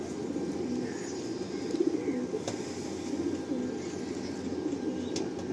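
Andhra pigeons coo softly and continuously inside a loft in Kolkata, a low, murmuring burble with faint chirps and rustles over steady background noise.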